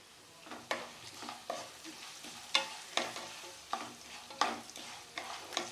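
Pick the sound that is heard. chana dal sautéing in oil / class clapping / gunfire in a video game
chana dal sautéing in oil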